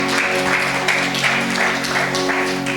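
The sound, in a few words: congregation applause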